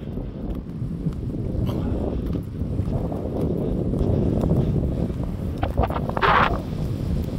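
Wind blows steadily across a long jetty in South Australia, a loud, continuous low rumble buffeting the microphone throughout, with a brief brighter gust near the end.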